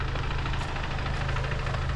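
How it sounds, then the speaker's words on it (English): A Stage 2 tuned VW MK7 GTI on a road trip gives a low, steady engine drone with a rattly, knocking undertone from its clutch, close and continuous throughout with no voices. "Listen to that clutch."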